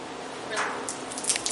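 Hot water spills out of a brewing hose after recirculation in a brewing rig. A brief wet gush and splatter lasts about a second, close and moderately loud, with small drips and squishes at the end.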